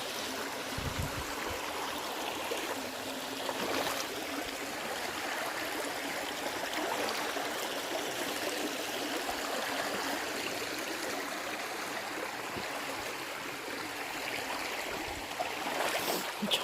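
A shallow stream burbles and trickles steadily around a mudlarker wading near a bridge, soft and close, with occasional splashes and knocks from footsteps in the water and no talking.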